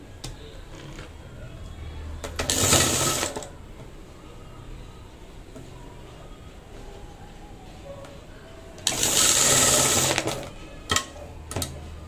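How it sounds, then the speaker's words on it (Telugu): Sewing machine stitching along the lining edge of a blouse in two loud whirring bursts about a second long, separated by quiet handling noises nearby. "దీని మీద ఎడ్జీలో కుట్టేసేస్తున్నాను"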